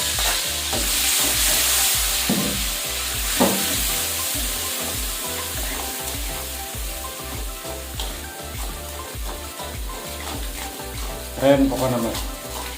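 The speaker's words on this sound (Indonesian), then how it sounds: "jadi bumbunya sudah jadi, kita lanjut goreng guys" Fried rice with seasoning paste frying in a wok, a loud, steady sizzle with regular rhythmic scraping of a spatula close by, while someone talks briefly over it.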